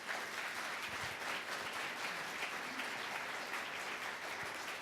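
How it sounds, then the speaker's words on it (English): Quiet, steady applause from an audience at a school gathering, many hands clapping evenly at a distance without pause. "We should really give her a nice round of applause."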